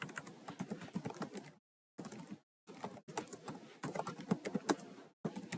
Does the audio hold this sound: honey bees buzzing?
no